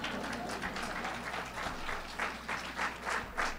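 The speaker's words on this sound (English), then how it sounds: "No applause for that?" An audience applauds at a governor's State of the State presentation, moderate, steady clapping from a seated crowd with rhythmic swells, heard somewhat distant in a hall.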